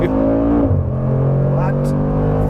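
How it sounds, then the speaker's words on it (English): Mercedes-AMG G 63 with 577 horsepower launching hard from a standstill in Sport Plus, a loud, close engine roar building from brake-held revs into full acceleration, with talk over the top. "I will have my foot on the brake, foot on the gas, build up and go."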